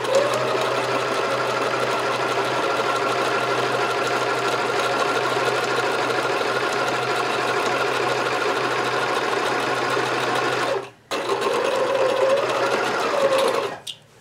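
Sewing machine stitching a curved quilt seam, a loud, steady close-up mechanical whir that runs continuously, pauses briefly, then resumes and stops again near the end, with no talk.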